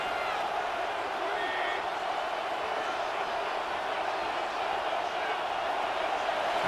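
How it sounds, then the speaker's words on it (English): Football stadium crowd roaring on a third down during a Buccaneers at Bengals NFL game, a loud sustained wall of crowd noise filling the whole stretch without a break. "The crowd making their presence felt."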